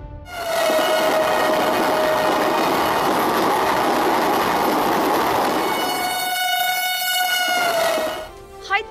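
A train runs steadily along its rails with a continuous rumbling roar and a sustained horn tone, which fades near the end. It is a bullet-train line between Hyderabad and Mumbai.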